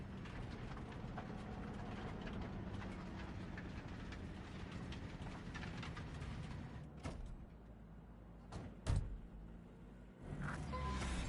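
A train rumbles past in the Cyberpunk 2077 video game, a sustained low mechanical roar and clatter that drops away near the end, followed by a few sharp clunks and a rising hum, with no talking.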